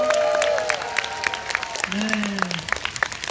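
Audience applause after a stage performance at an outdoor rose festival venue, a steady clapping wash that fades gradually, with a host speaking briefly over it.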